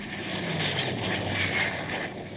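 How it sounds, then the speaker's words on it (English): Jet aircraft coming in to land as a radio drama sound effect, a steady loud roaring whoosh with a high whine that holds throughout, alone with no voices. "As I landed, his jet was just coming in."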